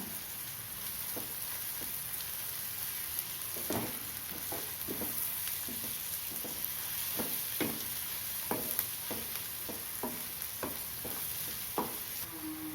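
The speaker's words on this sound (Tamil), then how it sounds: "கருவேப்பிலை சேர்த்து ஒரு நிமிஷம் வதங்கணும்" Curry leaves sautéing in a pan while a spicy potato masala fry is being made, a steady sizzle broken by a string of short scraping stirs, moderately close, with no talking.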